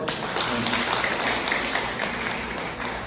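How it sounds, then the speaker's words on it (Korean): Church members at a congregational meeting burst into applause, a dense, steady wash of clapping that fills the room for a few seconds, with faint voices mixed in. "박수 한번."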